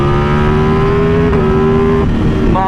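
A custom motorcycle engine revs hard and loud up close, a steady high-pitched roar with pitch wobbling, dipping, then climbing again near the end.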